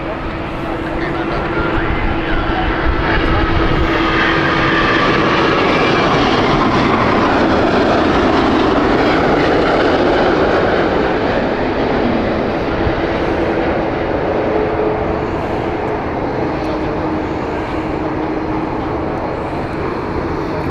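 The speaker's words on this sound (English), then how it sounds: "Airbus A330neo from Virgin." Virgin Airbus A330neo jet at Heathrow, a sustained broad engine roar with a steady low hum running the full length, heard with a voice speaking over it at times.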